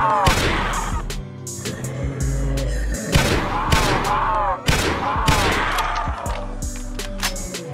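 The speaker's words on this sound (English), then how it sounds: "Here's a demo of the gun when aiming down sights." Gunfire from a G3A3 battle rifle aimed down sights in the video game Project Lazarus: several loud, sharp shots at irregular intervals with booming tails, mixed with game ambience and a faint music bed.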